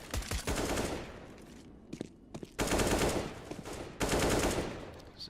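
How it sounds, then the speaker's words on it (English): P250 pistol fire in Counter-Strike during a professional match, dense bursts of rapid gunfire with sharp cracks, broken by a short lull and then resuming heavily. "It's a nice headshot, but P250 wasn't what it used to be."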